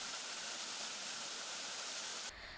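A waterfall on Myohyang Mountain pours in a steady, dense hiss of rushing water, even and unbroken, before dropping to a quieter wash in the final moments.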